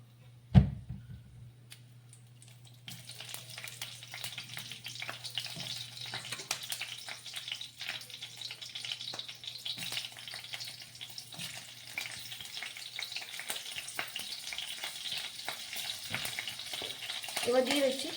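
Four split whole green chilies drop into hot oil in a chicken curry pan, a sudden pop followed by steady, soft sizzling and crackling frying that continues throughout, with occasional faint stirring clinks.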